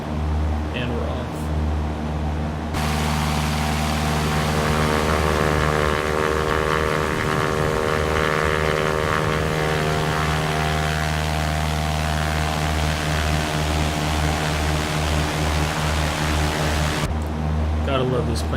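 Cessna 172SP Skyhawk single-propeller engine at full throttle in the X-Plane 11 flight simulator: a loud, steady, harmonic engine drone with propeller buzz that holds constant through the whole takeoff roll.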